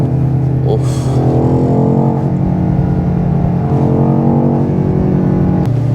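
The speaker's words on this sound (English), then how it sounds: "Listen to that exhaust here now." BMW XM Label luxury SUV, a 748 hp 2025 model with an Akrapovic exhaust, revving loud and close in a continuous deep engine roar that rises and falls, with a brief exclamation from a person.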